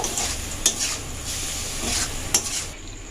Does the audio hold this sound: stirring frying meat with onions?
yes